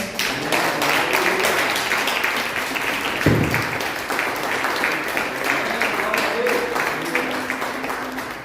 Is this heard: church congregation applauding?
yes